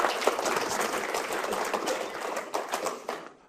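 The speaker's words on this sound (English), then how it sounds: "I think we owe him a round of applause." A meeting audience applauds, dense sustained clapping from many hands that holds steady throughout and then tapers off at the end.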